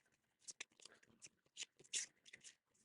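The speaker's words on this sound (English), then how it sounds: "I'll shuffle this deck." Board game cards being shuffled by hand, a run of papery riffles and snaps in quick irregular bursts, close and fairly quiet, with some soft talk mixed in.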